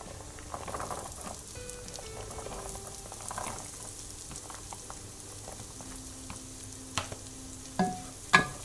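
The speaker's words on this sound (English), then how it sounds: "my onions are almost ready, so now I'm going to add 3 stalks of celery" Celery stalks go into a pot of onions cooking for broccoli soup, giving a soft, low sizzle with scattered stirring clinks and a couple of louder knocks at the end.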